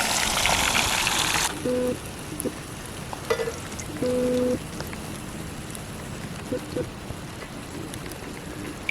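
Fish frying in a pan outdoors: a loud, rain-like sizzle at first that drops to a softer, steady crackle, with faint beeping tones over it.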